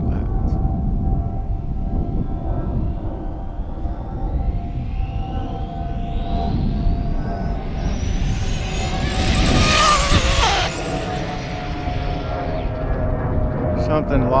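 An Arrma Typhon 6S RC car makes a speed run, its electric motor whine rising to a loud, high-pitched scream as it passes close by, then fading, with ongoing outdoor background noise and voices nearby.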